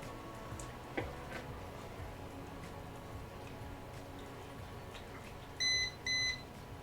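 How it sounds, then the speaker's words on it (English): A Smile Bright teeth whitening device timer beeps twice in quick succession, bright and electronic, standing out near the end over a quiet room. "the Smile Bright device actually has beep, so that indicates that my time is up for doing that"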